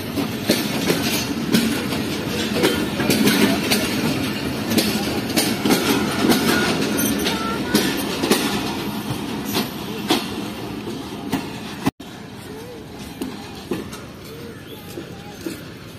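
The Green Line Express, a passenger train, roars past at high speed at Raiwind Junction on a hot day, with loud continuous rumble and rapid rhythmic clickety-clack of wheels over rail joints, close and dense throughout.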